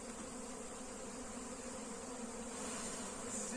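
Dense, steady humming drone of many honeybees from a drone-laying hive during a rescue as its frames are shaken, continuous and close with no voices.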